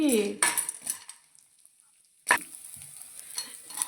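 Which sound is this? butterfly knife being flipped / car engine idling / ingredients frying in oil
ingredients frying in oil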